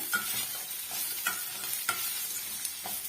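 Coconut is stir-fried in a pan for a curry leaf chutney, giving a steady close sizzle. A spatula scrapes and stirs through it in a loose rhythm. No one speaks.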